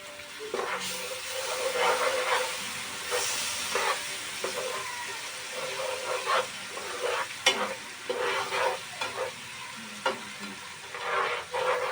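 Masala for prawn biryani sizzles and hisses in a pan as water goes in and steam rises, and a spoon stirs and scrapes in intermittent strokes close by.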